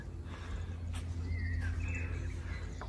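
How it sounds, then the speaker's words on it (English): Birds sing faintly in the distance at an outdoor plant nursery on a sunny spring day, with a few brief chirps over a steady low background hum. "You can hear the birds singing."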